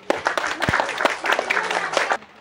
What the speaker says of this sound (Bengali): প্রতিযোগীর জন্য আবারও করতালি।